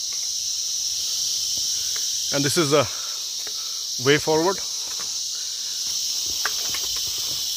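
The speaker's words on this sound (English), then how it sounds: "the reason I am taking the video is the sound of the crickets" Crickets chirp in a continuous high, steady drone along a gently sloping mountain trail from Yuksom to Sachen on the Goechala trek, holding unbroken throughout while someone briefly speaks twice.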